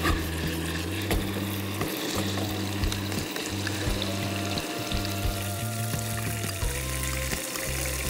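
Chicken tikka with spice paste sizzles steadily in a pan, a close, continuous frying hiss with bubbling and stirring, while a steady tonal hum sits under it throughout.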